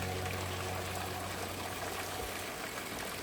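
Water trickles steadily into a horses' water supply on a Himalayan mountain trail near Taktsang monastery in Paro, Bhutan, a continuous close hiss and gurgle with no voices.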